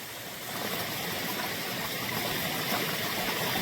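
Water in Eureka Creek rushes steadily along the Appalachian Trail near the Delaware Water Gap, a continuous broadband wash that stays close and even throughout.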